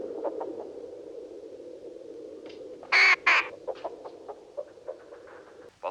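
Birds squawking during an attack scene in the film The Birds: a sudden loud burst of harsh screeches near the middle, followed by scattered shorter cries over a low, steady background rumble.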